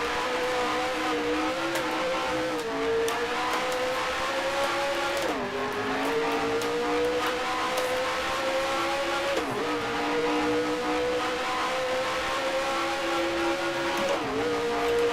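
A race car engine in the Grand Prix Legends racing sim drones loudly and steadily, with sharp dips and climbs in pitch as gears shift up every few seconds, and no talking over it.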